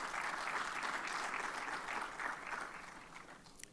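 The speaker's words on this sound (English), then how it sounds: "Please join me to give a round of applause" Quiet audience applause welcoming a speaker to the floor at an investment forum, a faint, even patter of clapping that gradually thins out over a few seconds.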